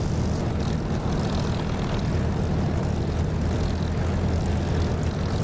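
An aircraft engine in the DCS flight simulator drones at a steady, dense roar throughout, constant and unbroken, with no voices heard.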